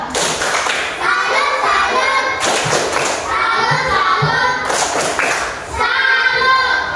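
Schoolchildren in an Indonesian classroom perform a rhythmic clap routine, loud close claps and thumps in quick patterned bursts, with the kids' voices chanting along throughout.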